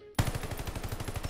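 Automatic fire from a BAR rifle in a shooter game, one loud sustained burst of rapid, evenly spaced shots starting abruptly after a short silence.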